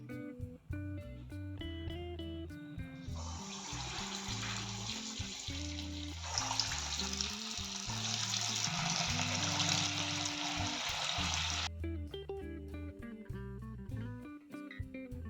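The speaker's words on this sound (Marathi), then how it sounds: "गोल्डन ब्राउन होईपर्यंत तळून घ्या।" Dahi vada fritters of batter deep frying in hot oil give a broad, steady sizzle that swells for several seconds under continuous background music.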